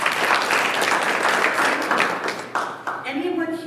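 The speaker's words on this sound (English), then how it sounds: "Round of applause," Audience applause at a women's leadership conference session on becoming a published author, dense clapping that thins out over a few seconds before a voice resumes.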